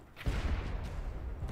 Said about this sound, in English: Fire the normal cannon. It has more damage, even with normal.